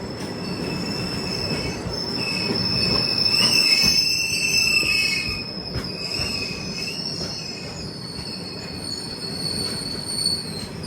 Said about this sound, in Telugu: హోమ్ కాలింగ్ సిగ్నల్ గురించి మన ట్రైన్ అయితే స్లో అయిందనమాట